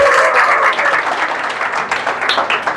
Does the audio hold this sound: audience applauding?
yes